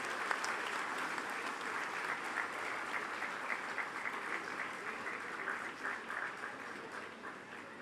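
A convocation audience applauds steadily for the graduates, a dense, even wash of many hands clapping that holds at a moderate level for several seconds without letting up.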